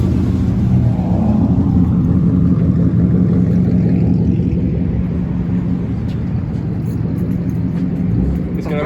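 Ford monster truck engine rumbling loud and close at a car meet, a heavy continuous low drone with people talking over it.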